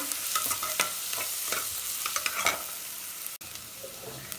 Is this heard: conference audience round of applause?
no